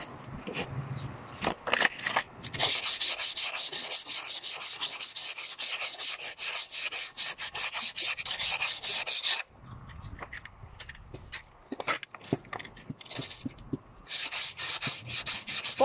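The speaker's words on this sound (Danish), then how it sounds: "Sandpapir." Sandpaper rubs back and forth in long, steady rasping strokes on a homemade challenge boat, loud and close, with a few brief pauses and knocks between passes.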